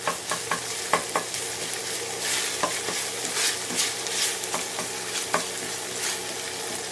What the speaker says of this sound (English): I don't want large chunks of the Italian sausage in there. I really want to break it up.